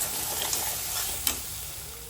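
Turmeric, chili powder, salt and spices stirred in a hot pan: a steady sizzle with a couple of sharp spoon scrapes against the metal, close and moderately loud, no voices.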